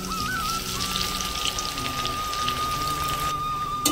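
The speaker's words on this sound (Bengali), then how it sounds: "সেই পেঁয়াজটাকে বেরেস্তা করে নেবো।" Sliced onions deep frying in hot oil for biryani birista, a steady dense sizzle and crackle that runs unbroken and close throughout.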